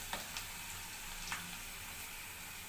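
Potato peels coated in gram flour fry in hot oil with a soft, steady sizzle and a few faint crackles, heard close without talk.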